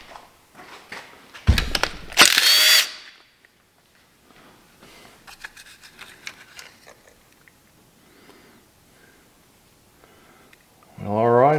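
A power tool gives a harsh, loud burst of about a second while pulling a lifter from a GM L83 V8 engine, followed by quieter clatter and handling noises, with another short burst at the end.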